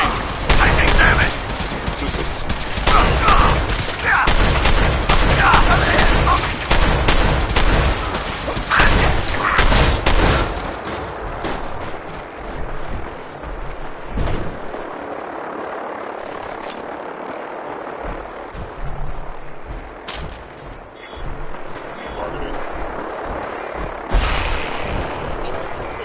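Gunfire in the video game Fallout 4, heavy bursts of shots and booming blasts dense and loud for the first half, then thinning to scattered, quieter shots and rumbles with voices heard intermittently.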